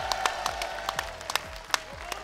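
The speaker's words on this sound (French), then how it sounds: "vous pouvez quand même applaudir Nico pour son parcours" A crowd applauds steadily, with many hands clapping in a dense, continuous patter at moderate loudness.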